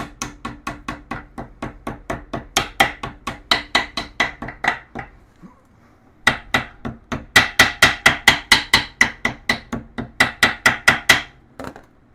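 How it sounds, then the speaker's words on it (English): A socket taps a differential seal into the rear differential of a 1996 Yamaha Wolverine 350 ATV. Dozens of quick, sharp metallic taps come up close in a steady rhythm, in two bursts split by a brief pause. "I'm going to give it just a little bit of a tap with this socket to make sure it's all the way in"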